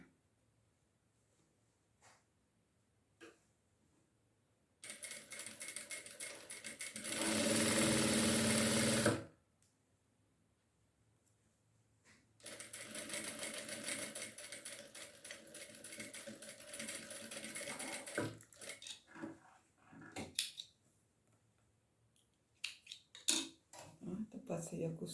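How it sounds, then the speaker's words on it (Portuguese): A sewing machine stitches a seam with its presser foot while a retractable pencil case is being made. It runs in two loud, buzzing bursts of several seconds each, separated by quiet pauses and followed by scattered handling clatter. "Costura de um pezinho de máquina."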